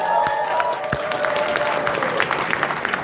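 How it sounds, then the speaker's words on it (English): Audience applause for the Black Tech founders at a Detroit startup fund event, a steady dense round of clapping with some cheering, filling the room for about three seconds with no speech over it. "Let's give them a round of applause."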